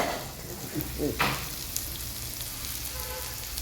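Curry leaves are dropped into hot oil in a pan, giving a sudden crackling burst that settles into a steady, moderately quiet sizzle, close by.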